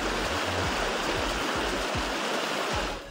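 A river in Barangay Landan, Polomolok, South Cotabato flows with a steady, broad rushing hiss, constant and fairly loud, with no voices over it.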